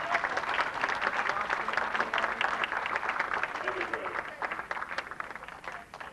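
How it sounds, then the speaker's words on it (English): An audience at a 1995 Babe Ruth baseball awards ceremony in Medford applauds with a dense, sustained wash of clapping that thins slightly toward the end. "So please, let's give us a round of warm applause for Coach Mattatall and his attention."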